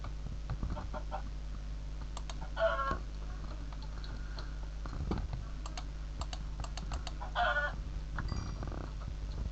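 Chicken clucking in a video game, a few soft clucks spread apart beneath steady keyboard typing and a low background hum.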